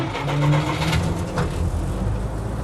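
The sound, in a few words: engine starting after tapping the throttle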